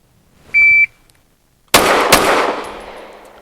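A shot timer beeps once, then a pistol fires a hammered pair, two very rapid loud shots in quick succession, with a reverberant decay trailing off afterward.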